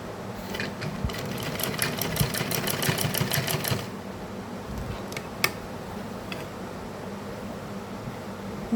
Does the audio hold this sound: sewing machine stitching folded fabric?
yes